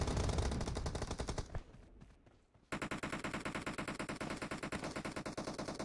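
Rapid automatic rifle fire in PUBG Mobile, a long loud burst, a brief quiet gap with fading echoes, then another steady, evenly spaced stream of shots that runs to the end.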